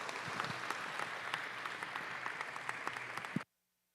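Crowd at a youth livestock expo gives a round of applause, a broad steady patter of many hands lasting several seconds before cutting off abruptly into silence.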